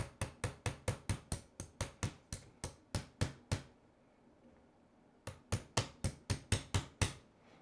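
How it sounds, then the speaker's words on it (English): A hammer strikes the rear hub part of an ARRMA Outcast RC car during a Hot Racing hub upgrade, a fast, steady run of sharp close taps, a pause of about two seconds, then another quick run. "Use my trusty hammer."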